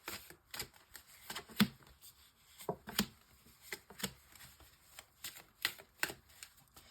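A Ferry Lenormand oracle deck being shuffled for a nine-card reading: quick papery riffles and flicks come in separate bursts, close and fairly quiet, with short pauses between them and no talking.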